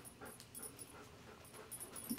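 A puppy sniffs and pants right beside the camera, soft quick breaths and snuffles with a faint whimper, close but quiet, without talk.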